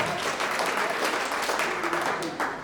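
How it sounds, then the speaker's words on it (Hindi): Enthusiastic applause from the audience at a poetry gathering as a poet is welcomed to the stage. Dense clapping continues evenly throughout, with faint voices in the crowd. "आप लोग जोरदार तालियां बजाकर उनका स्वागत करें।"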